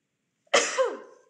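A single sharp human sneeze, close and loud, bursting out after a brief faint intake of breath and trailing off quickly.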